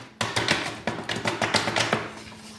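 A paper craft appliqué of a winter evening sky is tapped to shake off glue, giving about a dozen light, dry taps in an uneven rhythm, close and alone.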